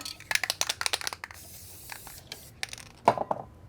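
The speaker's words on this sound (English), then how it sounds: "So I'm going to tacky spray it back." Tacky adhesive spray misted onto fabric pieces for an in-the-hoop embroidered bear outfit, a run of quick close hissing bursts, then a pause and a few more short sprays, with no talk.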